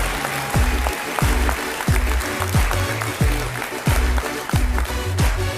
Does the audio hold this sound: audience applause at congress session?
yes